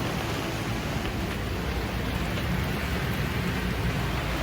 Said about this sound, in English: It's raining like hell outside.